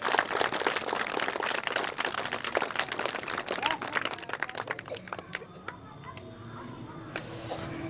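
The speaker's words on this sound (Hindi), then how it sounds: "जोरदार तालियों से जो है क्लास 10th के विद्यार्थियों को स्वागत किया जाए" Sustained clapping from an audience welcoming class 10th students at a school farewell function, dense and steady at first, thinning into scattered claps toward the end.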